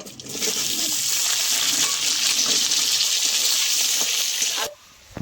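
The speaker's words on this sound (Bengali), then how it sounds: "আলুগুলো ভালো করে ভেজে নেব" Potatoes fry in a pan of oil tempered with black cumin, giving a loud, steady sizzling hiss for several seconds that cuts off abruptly near the end.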